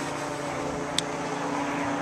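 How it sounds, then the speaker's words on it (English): A helicopter flies overhead during an outdoor walk, a steady, fairly loud rotor-and-engine drone with one brief sharp click in the middle. "There's a helicopter."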